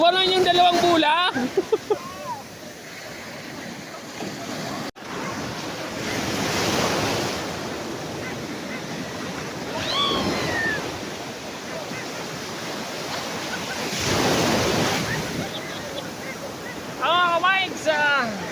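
Steady sea surf washing onto a beach, rising and falling in broad swells, with wind buffeting the microphone and brief voices near the start and end.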